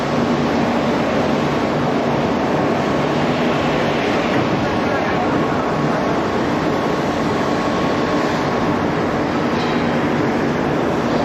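An EOT overhead crane running in a steel plant furnace bay gives a loud, continuous industrial roar and rumble that holds steady throughout, with no pauses or distinct breaks.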